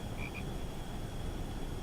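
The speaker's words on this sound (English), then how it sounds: "There's a frog." A frog gives two quick, faint croaks in succession against a steady background hiss, fairly distant and brief.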